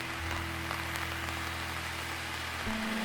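Rain falling on a cold night in downtown Los Angeles, a steady hiss of drops over a low continuous city hum, even and unbroken throughout.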